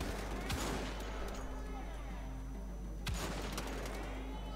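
Gunfire in Wolfenstein: The Old Blood, two sharp shots about two and a half seconds apart over a low steady rumble, fairly faint overall.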